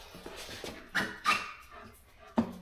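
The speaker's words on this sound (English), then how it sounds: "So my dog is running around because he's hanging out with me. In case you're wondering what that whining noise is." A dog whines and yelps in short, separate bursts in a garage during a rear brake job on a 1999 Dodge Ram 2500, moderately close, with a faint background hum between the cries.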